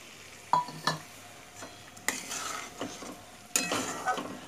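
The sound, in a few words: paneer and coriander added and stirred in a pan for matar paneer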